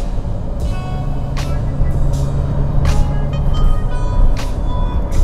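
A new Toyota Hilux GR pickup driving on a road, a loud, steady engine and road rumble with wind noise and a few brief knocks, heard from inside the cab.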